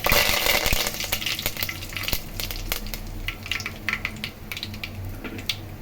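Fennel seeds and curry leaves splutter in hot oil over a low flame, a steady close crackling sizzle dotted with sharp pops, heard alone.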